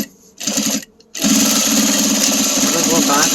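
A sewing machine runs back over a bag seam to backstitch it: a short burst, a brief pause, then a loud steady mechanical whirr of the needle stitching close by.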